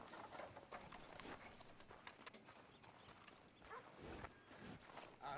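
Soft, rhythmic clip-clop of horse hooves walking in the video game Red Dead Redemption 2, faint against a quiet outdoor background.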